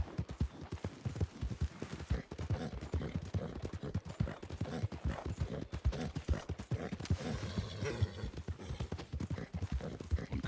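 A horse ridden in Red Dead Redemption 2 clip-clops at a steady gallop, rhythmic hoofbeats close and loud throughout with faint tack creaks.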